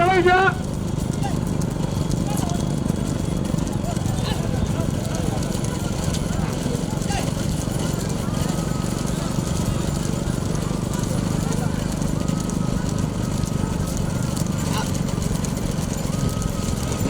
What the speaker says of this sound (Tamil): நடந்து கொண்டிருக்கும் இந்த தேஞ்சிட்டு போட்டியில் முதலாவதாக தற்சமயம் ஓகே குமார் தேனி மாவட்ட காளைகள்